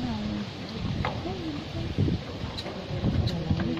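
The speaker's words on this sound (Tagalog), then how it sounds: "Malakas ng hangin." Strong wind blows at an outdoor shrine, a continuous rushing roar with gusty buffeting. A voice talks under the noise.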